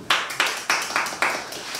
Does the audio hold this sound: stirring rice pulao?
no